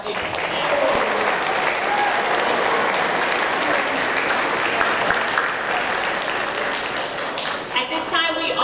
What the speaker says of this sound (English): let's give one final round of applause to all of our students today.